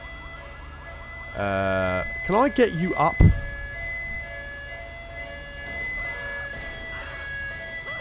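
A wailing ambulance siren in the video game GTA 5, a short rising and falling electronic whoop heard briefly and loudly amid game ambience, with someone speaking over it.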